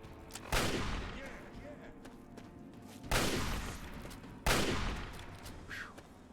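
Gunfire in Fallout 3: three sharp, loud bursts of shots spaced a few seconds apart, each ringing out with a long echoing tail over a low background.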